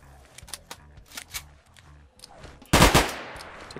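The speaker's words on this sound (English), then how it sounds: "And then if I shoot this mag," A gun empties a magazine in the video game ZSGO. Soft clicks and small pops lead into a sudden loud, close burst of rapid gunfire with a ringing tail.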